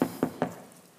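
Knocking on a door during a Christmas stage play, three firm, evenly spaced raps close by, each with a short wooden thud and quick decay.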